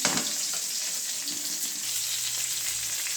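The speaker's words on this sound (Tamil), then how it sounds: "அடுத்தது சின்ன வெங்காயம், போட்டு கொஞ்சம் நேரம் வதக்கிடணும்." Small shallots sautéing in hot oil in a pan for moong dal sambar, giving a steady bright sizzle with a few soft stirring touches and a low hum in the background.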